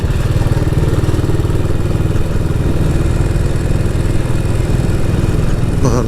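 An old BSA motorcycle engine runs close by in Ramsey on a bike night, a loud, steady, lumpy throb with rapid clattering pulses throughout, and a brief rattle near the end.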